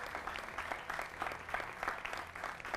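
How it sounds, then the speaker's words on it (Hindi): A studio audience at a televised Hindi political debate applauds to welcome a guest, continuous lively clapping with rhythmic bursts, fairly quiet and unbroken by speech. "जोरदार तालियों से उनका भी स्वागत कीजिए।"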